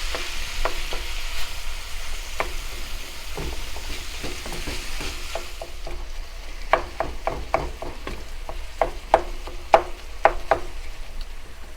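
Ham and pork sausage meat sizzling and frying in a pan, a steady crackling hiss with a spatula stirring and scraping in irregular clicks that grow sharper and louder toward the end, no talking.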